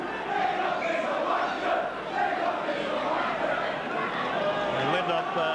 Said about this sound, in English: getting a bit of a workout now from the crowd there in unison, chanting, "Lindop is a wonder."